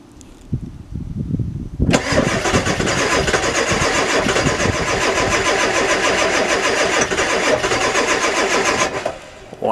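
Ford 7.3 Powerstroke diesel with bad glow plugs, cold-starting in freezing weather: brief clicks, then a loud rhythmic crank that catches into a rough, clattering run for several seconds before cutting off, close to the mic.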